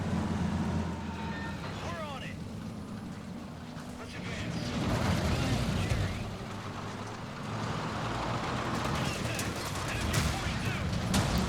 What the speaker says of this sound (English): probably drop some mortars on it as well